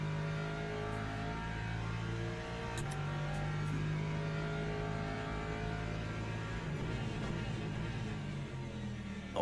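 Lexus race car in the sim racing game Le Mans Ultimate, a steady droning engine note with shifting tonal harmonics, held at a moderate, even level throughout without a break.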